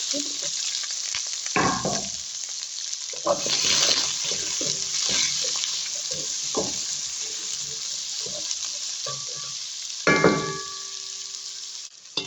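Sliced onions frying in a pan for an Ethiopian-style chicken dish, a steady close broadband sizzle with a few louder bursts as the onions hit the oil and get stirred.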